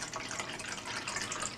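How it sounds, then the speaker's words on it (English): Faint tap water runs in a steady, soft splashing stream into a measuring cup holding boiling water. "I'm just going to take tap water"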